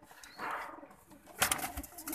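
Patti-type pigeons in a Faisalabad loft cooing softly at close range, with a brief louder burst of rustling midway and no speech.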